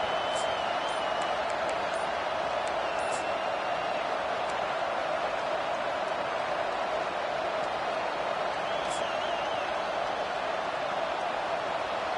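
A packed stadium crowd at a Florida college football game keeps up a steady, loud roar, with a few sharp whistles cutting through now and then.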